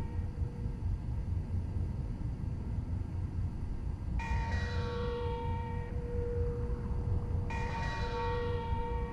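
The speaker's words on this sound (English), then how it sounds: "It's the bell that stands out. Keep your ears up for that kind of ringing." A bell in Marvel's Spider-Man: Miles Morales strikes twice, each clear metallic ring decaying slowly over a constant low rumble, with no talking.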